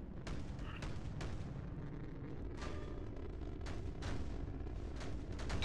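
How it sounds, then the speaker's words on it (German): Ship weapons in the space fleet battle game Nebulous: Fleet Command fire as a steady barrage of dull booms and cracks, with heavy low rumble throughout and sharper bursts punctuating it at irregular intervals. "Also ich schieße die ganze Zeit in den Antrieb."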